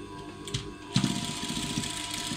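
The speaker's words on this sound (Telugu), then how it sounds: "జాకెట్ తీసేసి ఇలా స్టిచ్ చేసుకోవాలి." A sewing machine stitches a plain blouse, starting with a couple of short bursts before settling into a steady, close, rhythmic whirring hum.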